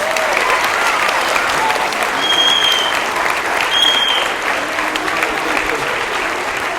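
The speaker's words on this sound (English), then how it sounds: "can we give them a big round of applause?" A theatre audience applauds two staff members after a stage production, loud sustained clapping with a couple of brief whistles cutting through partway.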